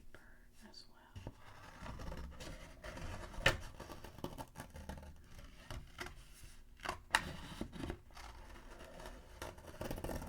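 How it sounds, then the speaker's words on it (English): Scissors snip through thicker paper while cutting out a shape, giving close, quiet crisp cuts and rustles under soft whispering. "just going to cut out the shape of this thicker paper as well"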